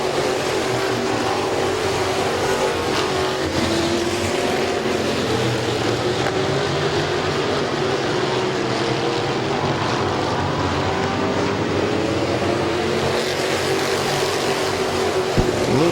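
Race cars circle a dirt speedway at Midvale in a pack, their engines forming a constant loud drone with rising and falling pitch as they pass through the turns.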